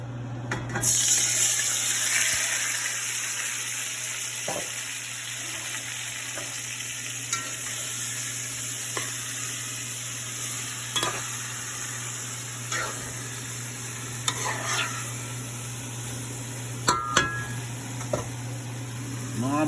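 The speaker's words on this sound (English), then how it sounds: "Now my oil is hot now, I'm gonna add my beef." Seasoned beef frying in hot oil in a pot for stew, a steady broad sizzle running throughout with scattered clicks and utensil knocks, close and fairly loud, no talking.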